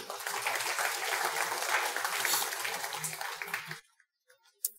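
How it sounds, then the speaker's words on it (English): Church congregation clapping during a sermon, a burst of many hands applauding for several seconds before cutting off abruptly to near silence, with a faint voice underneath. "Okay, give the Lord a clap for that."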